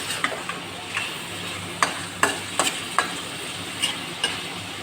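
Cabbage stir-fried with chicken gizzard and liver in a pan, a steady faint sizzle broken by sharp spatula taps and scrapes at an uneven rhythm, with no voices.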